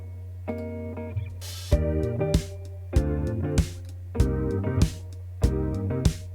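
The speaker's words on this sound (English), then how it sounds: "it's a stereo enhancer" An indie pop music loop with a stereo enhancer effect widening it: repeated short chord stabs over a steady low bass drone, each phrase punctuated by crisp drum hits in an even rhythm, no voices.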